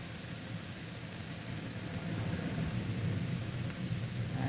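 A kitchen vent fan runs steadily as a broad, even whoosh of noise, growing slightly louder partway through while peach and sweet potato salad ingredients cook nearby.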